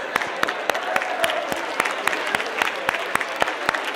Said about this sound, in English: Now give yourself a big round of applause.